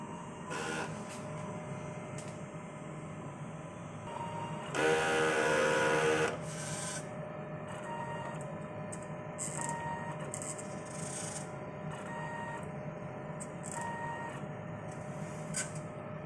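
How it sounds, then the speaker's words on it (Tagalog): An inkjet printer works through a normal head cleaning cycle, a steady mechanical whir and hum with a louder, brighter burst of grinding motor noise partway through, then quieter clicks and shifts as the carriage moves. "So, after natin ma-on yung printer, so mag-cleaning po tayo."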